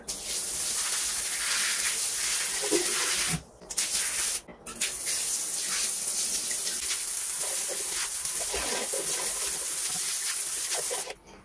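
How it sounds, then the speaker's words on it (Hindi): A hand shower sprays pressurized water across a toilet seat and bowl to rinse away tissue, a loud continuous hiss that breaks off briefly twice before resuming, with no voices. "अब हम मुस्लिम शावर से या किसी और पानी के प्रेशर से इसके टिश्यू को यहां से हटा देंगे।"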